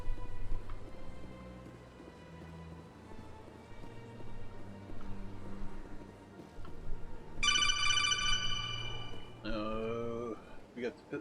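A phone ringtone chimes in during Mass Effect Legendary gameplay, a bright repeating electronic melody sounding twice near the end over low game ambience and room noise.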